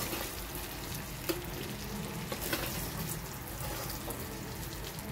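Fish frying in oil, a soft continuous sizzle and crackle at low level, with faint scraping stirs and no talk.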